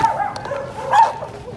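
A dog barks close by with a couple of short yips, the second slightly louder, in an outdoor setting.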